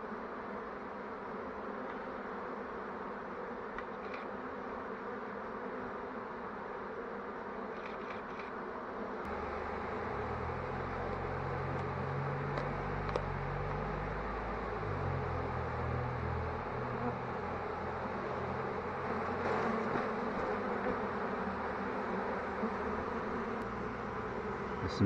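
A honeybee swarm hums steadily at the entrance of a hive box, a dense close buzz of many bees fanning, with a deeper droning layer swelling in partway through and continuing to the end.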